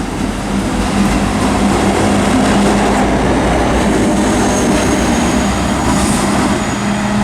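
Class 59 locomotive 59104 hauling a train past on the Great Western Main Line between Reading and Bedwyn, a loud continuous rumble and roar with rail noise, sustained and close throughout.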